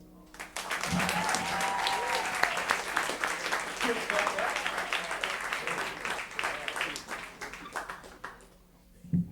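Audience at a Berklee City Music summer scholarship meeting giving a performing group a steady round of applause; dense, continuous clapping at moderate volume for most of the stretch, thinning out toward the end.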